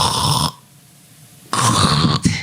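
A voice imitates sleep apnea snoring: a loud, rasping snore, then about a second of near silence as breathing stops, and a sudden loud resumed snort-snore.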